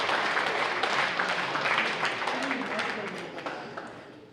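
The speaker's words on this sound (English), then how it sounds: "We want to give parents a round of applause." Crowd at a high school football banquet applauds parents, a thick burst of many people clapping that starts loud and gradually thins and fades toward the end, with some voices mixed in.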